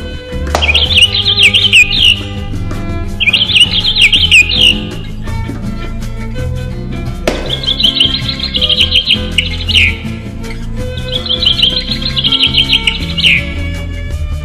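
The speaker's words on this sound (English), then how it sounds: "Then different bird calls and burst moods are played in random." Sound-activated toy bird playing recorded bird calls: four bursts of bright, rapid chirping trills, loud and close, separated by short pauses, with no voices.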